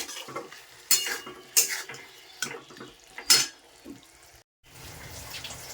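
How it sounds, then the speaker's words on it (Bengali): Spice paste for a prawn and potato curry being stirred and fried in a pan, with a spoon scraping and clattering against the metal in several sharp bursts over a soft steady sizzle, close and alone. "ভালো মতো নেড়ে চেড়ে মশলাটা ভালো মতো কষাতে হবে"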